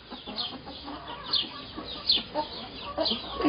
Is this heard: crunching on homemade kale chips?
no